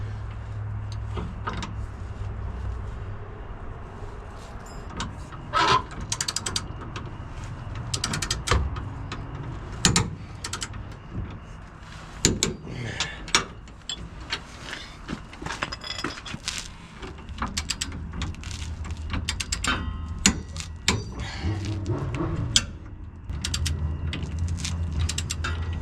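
A ratchet clicks as the rear suspension bolts on a Toyota Tacoma with Old Man Emu Dakar leaf springs are tightened, in repeated close bursts of clicking with metallic knocks and no talking.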